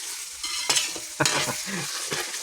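Chicken pastil frying and being stirred in a pan, with a steady close sizzle broken by a few sharp scraping stirs, no voices.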